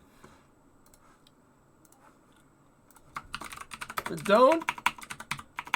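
Rapid computer keyboard typing, quiet and sparse at first, then a dense burst of clattering keystrokes, with a brief vocal interjection over the busier stretch.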